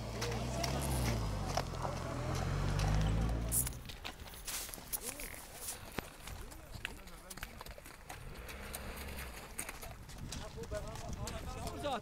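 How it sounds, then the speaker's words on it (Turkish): Horses pound past at a village horse race in Benliahmet, Kars, with heavy rumbling hoofbeats at first and then scattered clip-clopping steps. Voices can be heard over the hooves. "Atlar sürmeye giriyor."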